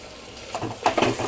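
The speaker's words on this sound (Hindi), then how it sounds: "देखो अच्छे से भून रही हूँ इसको।" Pav bhaji vegetables with added colour being fried in a pan: a brief stretch of soft sizzling, then a few scraping, stirring strokes against the pan.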